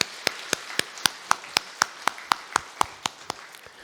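Steady, evenly spaced claps ring out about four per second, crisp and fairly close, like a single pair of hands clapping in rhythm rather than a crowd, during a Wednesday church worship service.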